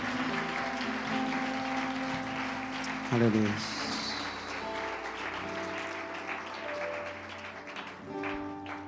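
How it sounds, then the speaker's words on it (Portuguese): A church congregation at a celebration service claps under a spoken voice and a sustained musical backdrop, the applause a moderate wash that swells briefly in the middle before fading into talk. "Você pode dar um aplauso forte a Jesus,"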